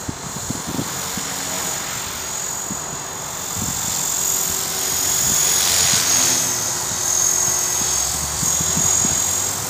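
Steady buzzing rotor and motor whine of a small EXI 450 model helicopter with a 401B gyro, fairly close, swelling and easing slightly in loudness throughout.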